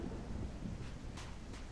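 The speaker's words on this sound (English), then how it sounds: "Still raining, pouring," Rain and rumbling thunder in the Gothic 1 remake video game, a low continuous storm rumble with steady rainfall, fairly quiet, with no speech.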